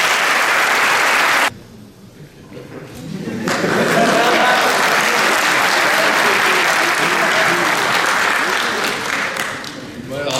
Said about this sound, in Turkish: Onları bir alkışlayabilir miyiz?